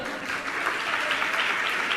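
An audience at a religious gathering claps together in a short, dense burst of applause, steady and fairly close, with no talking.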